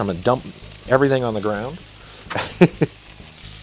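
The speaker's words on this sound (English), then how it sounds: "toss in our meat. That's going to drop down the temperature so we don't ignite that oil. And it's going to start sizzling." Meat sizzles in hot oil in a cast iron pan, a steady frying hiss running beneath a person talking through most of the moment.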